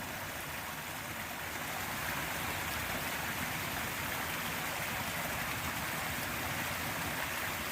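A small stream flows steadily at the old water source of a homestead along a headwaters trail near Aristes, Pennsylvania, past a built stone wall, a close, continuous broadband rush with no voices.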